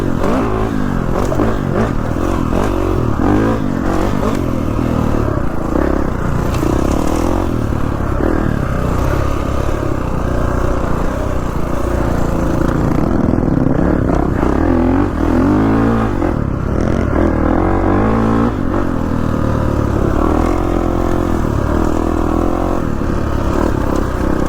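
A 2019 Kawasaki KX450F motocross bike engine revs and roars continuously up close, rising and falling in pitch with rattling clatter, no voices.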